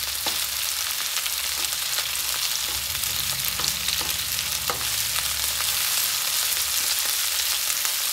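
Chickpeas (chana) frying in hot oil for a crispy chana chilli hiss with a steady, dense sizzle throughout, broken by faint scraping clicks of stirring.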